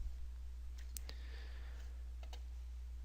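A computer mouse gives a few faint, sharp clicks in two quick pairs over a quiet background hum.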